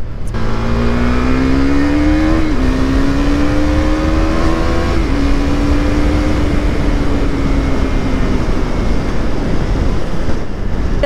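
A vehicle on a road accelerates hard through several gears, its engine note climbing, dropping at each shift and climbing again, loud and close for about eight seconds before the pitch settles.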